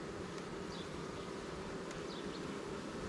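Honey bees buzzing around a backyard beehive, a dense, even drone at low level with a few individual bees passing close by.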